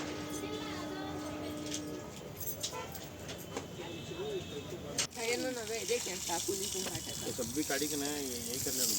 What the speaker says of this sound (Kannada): ಮಸ್ತ್ ನೀರು ಹೊಡ್ಯಾತೀವಿ